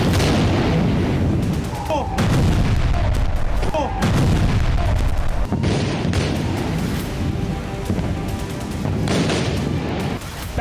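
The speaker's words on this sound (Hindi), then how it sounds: "आसमान में धमाके और जमीन पर तबाही।" Booming explosions and artillery fire from Iranian missile strikes on Israel, from Tel Aviv to Haifa, pound loudly in repeated heavy bursts over a continuous rumble, with voices faintly mixed in.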